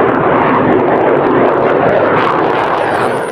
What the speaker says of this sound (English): Ada jet tempur.